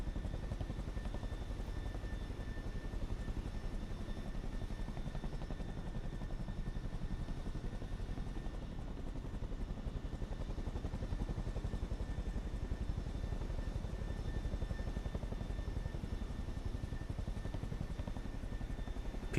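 Chinook helicopters flying in Microsoft Flight Simulator 2024, a continuous dense rotor and engine roar with a steady whine, unbroken and even in level for the whole stretch, with no voices.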